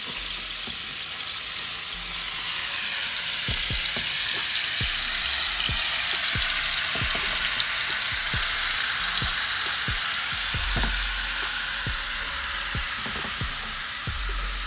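Beef for Filipino bistek sizzles steadily in a hot pan, a loud, continuous frying hiss dotted with sharp pops and crackles throughout, with no talking.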